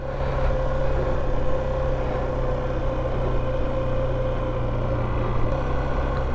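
A motorcycle engine runs steadily in first gear during a basic rider training session, a constant low hum and drone holding an even pitch throughout, fairly loud and close with no talking.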